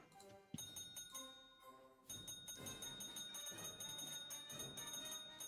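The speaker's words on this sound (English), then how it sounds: "They gave us bells." Bell tones in the video game Guilty as Sock, a bright ringing sound with sustained harmonic tones that start after a short quiet gap, layered with busy game sounds and fairly loud.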